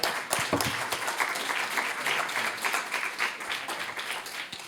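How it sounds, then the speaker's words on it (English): A conference audience at a NATO-EU roundtable applauding a speaker, dense steady clapping from many hands that sounds close and full and lasts throughout without a break. "Once again, give a round of applause to Mr. Paet."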